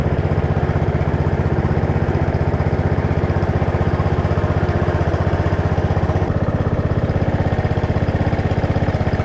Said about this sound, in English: Let's let it run for a minute. Just idle.